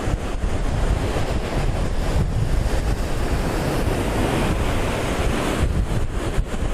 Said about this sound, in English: Boy, that wind is howling.